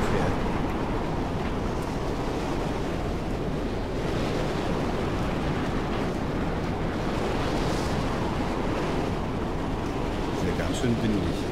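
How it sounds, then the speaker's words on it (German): Loud, constant wind roars across an open wasteland in the Mad Max video game, a dense unbroken rushing wash with gusty swells throughout and no breaks. "Schön laut der Wind."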